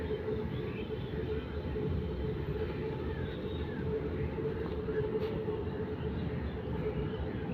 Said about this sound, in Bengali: ওপর থেকে মেট্রো রেল যাচ্ছে